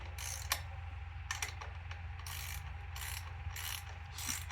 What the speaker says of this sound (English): Take my 7/16 wrench.